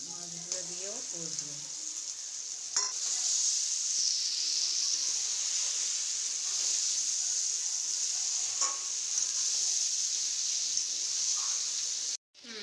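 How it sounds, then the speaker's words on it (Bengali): Koi fish and spice paste sizzling as they are stir-fried in oil in a pan, a steady, close hiss that fills the stretch after a brief voice at the start, then cuts off abruptly near the end. "মশলাটা ভালো করে কষবো এই কষতে কষতেই আমি মাছগুলোও দিয়ে দেবো এই মশলাটার মধ্যে"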